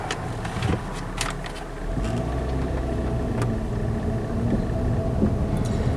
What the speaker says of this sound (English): So we're in drive, and we're just going to start, and we're going to accelerate real slow